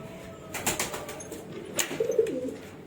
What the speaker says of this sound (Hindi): तो चलिए गाइस, पहले हम अपने कबूतरों को खोल देते हैं